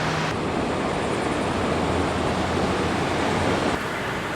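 Ocean surf rolls onto a Florida beach in a steady, dense wash of breaking waves, unbroken and fairly loud, with no voices.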